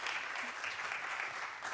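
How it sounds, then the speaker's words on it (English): Brief, steady applause from a seminar audience for a panel on water innovation, a continuous faint patter of clapping with no pauses. "please join me in applauding for our great panel"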